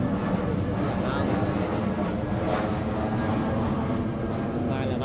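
An airplane flies low overhead on its descent toward Can Tho airport, a steady loud engine roar that fills the whole stretch.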